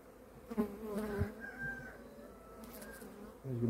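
Honeybees buzz over an opened five-frame hive as a frame is lifted out, a steady close droning hum with a few louder passes and light handling noises.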